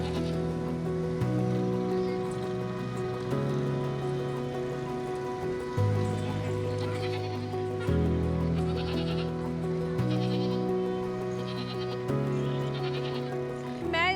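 Goats bleat repeatedly at a roadside livestock stall on a Karachi street corner set up for Eid sales, loud sustained cries following one another in close succession with steady background noise and no talk.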